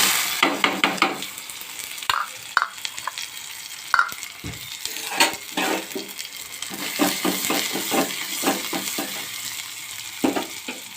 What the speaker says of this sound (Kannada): ಈಗ ಸ್ವಲ್ಪ ಉಳ್ಳಾಗಡ್ಡಿ ಕರಿಬೇವು ಒಗ್ಗರಣೆ ಹಾಕ್ತಾನೆ